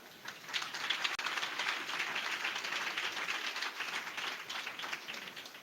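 Many worshippers at a church youth gathering in Odisha clap loudly together, a thick, fast rattle of hands that runs steadily throughout with little other sound.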